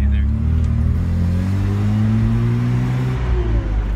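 A junkyard Mazda RX-7 engine pulls steadily under acceleration, a loud, close, continuous rumble with rising engine tones heard from inside the moving car.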